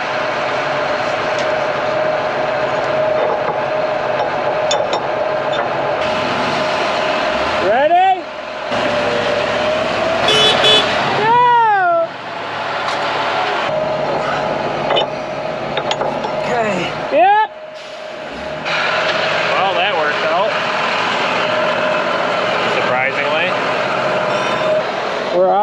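A truck and engine grind steadily while pulling a stuck vehicle out of soft muck in a corn field during harvest, with rising and falling mechanical whines over a continuous rumble and people talking throughout.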